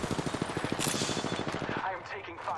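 Gunfire in Apex Legends on Nintendo Switch: a rapid burst of automatic shots rattles out close and loud for under two seconds, then stops.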